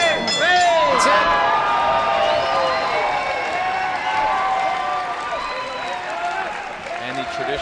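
A crowd at a taekwondo match in San Jose cheers, whoops and applauds loudly, the din fading slowly over several seconds, with shouts and whistles rising above it.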